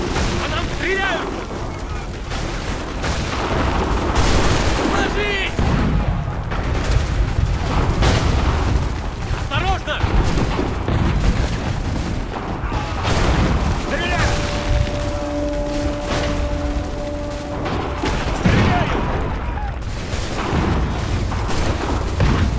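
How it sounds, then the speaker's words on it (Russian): Dense battle noise from Assassin's Creed III at the Battle of Bunker Hill: repeated gunfire cracks and deep artillery booms roll continuously, loud and overlapping, with voices shouting throughout. "Смотрите! По нам стреляют!"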